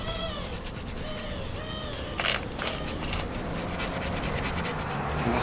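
Car brake parts scrubbed clean with a brush before painting, rapid repeated rubbing strokes close up with a brief louder scrape midway, no talking.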